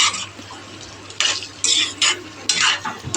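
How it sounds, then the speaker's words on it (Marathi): Potatoes tipped into onions frying in a pan for a Nashik-style onion and bombil curry, giving a sizzling stir with scraping, clattering bursts of utensil against pan, close and fairly loud. "तर ह्या कांद्यामध्ये हे बटाटे पण टाकायचे"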